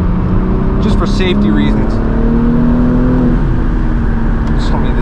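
A BMW M4 G82 with a manual gearbox accelerates on a track, its engine a steady droning roar with rising harmonic tones, heard from inside the car while someone briefly talks over it.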